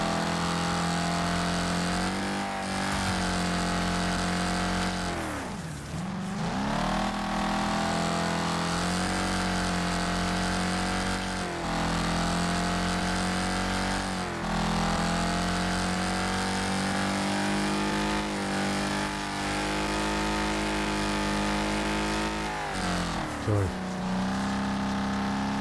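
A car engine in the racing game Wreckfest revs hard and continuously, a loud, buzzing drone that dips briefly when shifting gears and climbs again, with a voice talking over it.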